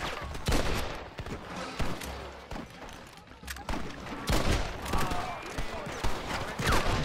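Gunfire in the Red Dead Redemption video game, with shotguns in use: several loud, close shots and bursts at irregular intervals across a continuous game backdrop.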